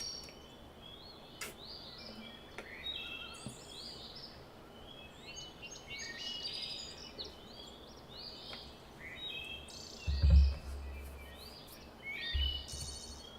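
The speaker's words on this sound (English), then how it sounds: "And there's birds chirping." Small birds chirp and twitter steadily in a peaceful meadow scene from the game Everlasting Summer, thin high calls scattered over a soft ambient bed, with a couple of low thumps near the end.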